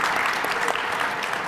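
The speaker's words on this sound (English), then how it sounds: "let's clap. We can clap for every answer" Audience clapping at a business event panel on athlete principles, a dense, steady burst of many hands filling the room at even loudness.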